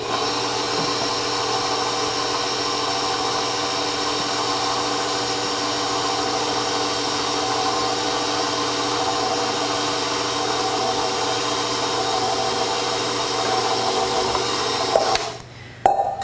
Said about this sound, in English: Now we're gonna beat this at a medium speed for 6 minutes